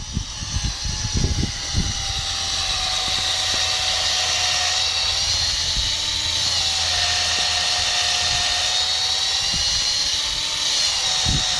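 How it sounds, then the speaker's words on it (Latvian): A drill bores into a birch trunk to tap its sap, giving a loud, steady high-pitched whine that runs without a break for about ten seconds after a few knocks and bumps at the start. "Šeit notiks urbšana."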